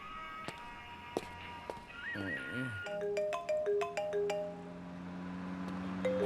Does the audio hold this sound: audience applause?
no